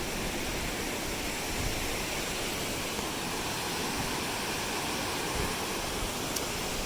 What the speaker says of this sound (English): Next to the sound of the waterfall in